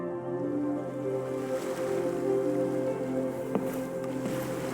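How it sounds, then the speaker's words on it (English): Ocean waves wash steadily in a Genshin Impact scene, a continuous soft surf texture under a low sustained ambient drone, with one brief faint tap near the end. "Sound of the ocean waves."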